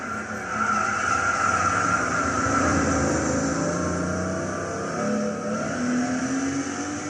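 A black 1987 RUF CTR Yellow Bird racing at Tsukuba in Gran Turismo 6, its engine roaring steadily and loudly throughout, with tire squeal and shifting pitch as it accelerates through corners.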